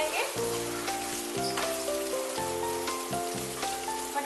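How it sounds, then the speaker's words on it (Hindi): Green peas roast with salt in a hot pan, giving a steady, close sizzle with light crackles and pops that carries on evenly throughout. "मटर को 2 मिनट के लिए भून लेंगे।"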